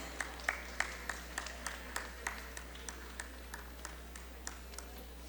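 Scattered, fairly faint clapping from a crowd at a school foundation day event, with sharp individual claps standing out over a low steady hum.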